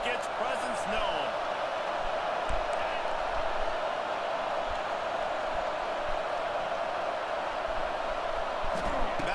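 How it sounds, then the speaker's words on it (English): Stadium crowd roaring in Madden NFL 26, a steady, broad wash of cheering that holds at an even level throughout with a few faint thuds beneath. "This crowd ready to make its presence known."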